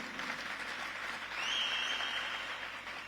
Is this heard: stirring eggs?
no